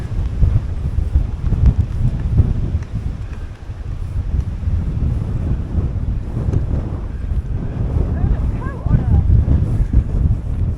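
Strong wind on a blustery day at Loch Etive, near Kelly's Pier, roars continuously and loudly across the microphone, with buffeting gusts and a faint lapping of water beneath.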